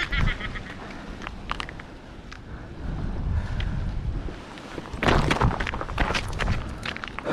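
Steady wind at sea buffets the microphone with a low, rough roar on a fishing trip, while faint honking calls and brief splashy bursts rise and fall.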